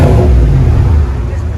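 GMC Sierra AT4 with a 6.2L V8 and Flowmaster exhaust rumbling loudly up close in a brief, deep rev that settles slightly toward the end, with a voice faintly under it.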